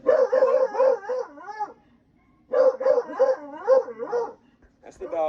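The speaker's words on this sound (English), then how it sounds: "That's the dogs, and they found something." Dogs bark close by in two bursts of rapid, rhythmic barks and yips with a short pause between them. A faint knock follows at the end.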